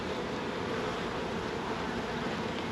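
A dense, steady buzzing of many agitated honeybees at an open hive, loud and continuous, filling the whole clip with no pauses or voices.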